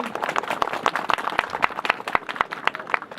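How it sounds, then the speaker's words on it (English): Outdoor community crowd in Ghulkin, Pakistan, clapping for young participants in a hockey game and dancing; distinct individual claps ring out in an uneven, fairly sparse rhythm, close and moderately loud. "a big round of applause and a thank you for all of our young participants"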